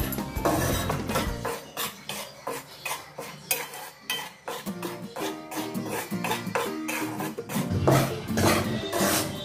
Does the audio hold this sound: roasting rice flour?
yes